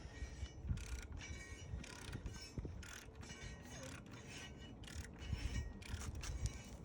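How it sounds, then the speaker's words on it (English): Subaru engine turned over slowly by hand with a wrench to check cam and crank timing, repeated ratcheting clicks and mechanical scraping in bursts, close and fairly quiet, with no talking. "we're going to spin the motor over twice, and we're going to make sure that we will land back on top dead center for both our cams and our crankshaft"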